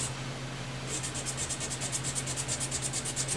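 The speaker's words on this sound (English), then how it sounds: "this is a fairly rough grit. It's not real rough. Well, it's pretty rough. Sure taking that walnut down in a hurry." Rough-grit sandpaper rubs quickly over a walnut guitar neck on a Fender Strat under repair, a steady rhythmic scraping of back-and-forth strokes that starts after a brief pause, close and fairly quiet.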